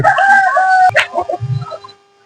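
A red country-breed rooster on a farm crows loudly and close, one long drawn-out call, followed by a few short clucks and scattered farmyard noises before quiet.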